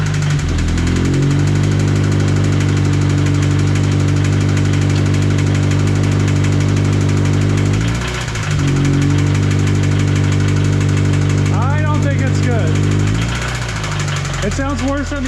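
A used engine bought off Facebook Marketplace, freshly fitted with its cooling hoses, runs at a steady loud idle with a knocking, vibrating mid-pitched drone, a short dip around midway, and voices speaking faintly over it toward the end.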